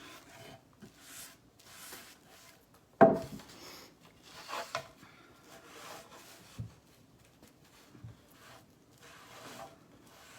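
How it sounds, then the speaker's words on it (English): A sponge dabs gray paint onto a wooden fall sign, making soft, intermittent rubbing pats close by. One sharper knock lands early, then irregular quiet dabs follow. "Once again, I'm painting with a sponge."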